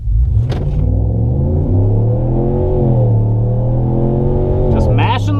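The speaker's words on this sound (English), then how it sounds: "Just mashing the gas here." A 2019 RAM 1500 pickup in 4-wheel drive accelerates hard, its engine note climbing steadily in a loud, continuous roar with rising and dipping pitch as gears shift, heard close and alone.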